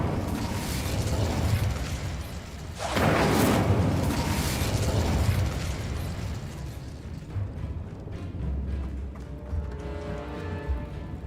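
A fire spell from Hogwarts Legacy cast mid-fight: a loud whooshing burst of flame that swells for about two seconds, then fades into clattering battle effects and scattered impacts.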